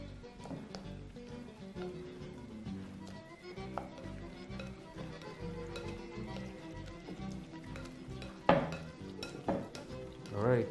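Chickpeas and flour are mixed into a wet fritter batter in a bowl, making soft, irregular scraping and squelching stirs at close range, with a few louder knocks of the utensil toward the end.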